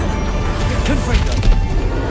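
Confringo fire blast spell striking in the Hogwarts Legacy video game, sharp smashing thwacks and crackling bursts over rumbling game noise, with a voice briefly audible among them.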